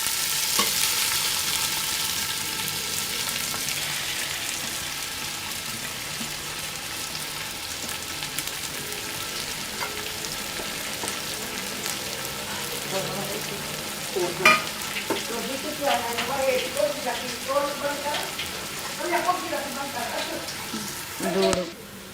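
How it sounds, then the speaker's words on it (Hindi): Three large onions frying in about a cup of cooking oil in a large pot for biryani, a long bright sizzle and crackle with repeated stirring scrapes growing busier toward the end, with faint talk in the background. "अब इसमें मैं ये 3 बड़ी प्याज भून लूँगी, फ्राई कर लूँगी।"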